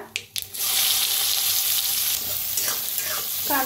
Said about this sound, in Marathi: कांदा छान असा सोनेरी कलर मध्ये भाजलाय बघा